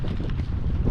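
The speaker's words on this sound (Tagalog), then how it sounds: "Uy, hangin man. Lumakas." Strong wind gusting across a boat on open water, buffeting the microphone with a loud, steady low roar that swells slightly through the second.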